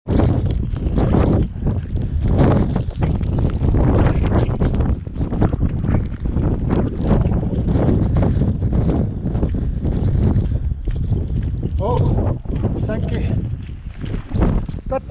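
Loud, continuous wind buffeting the microphone on a November hill walk over Moanbane and Silsean in County Wicklow, a steady low roar with gusty swells throughout.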